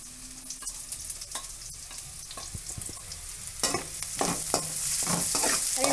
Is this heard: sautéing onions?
yes